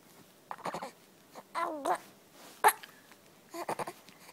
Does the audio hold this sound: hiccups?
yes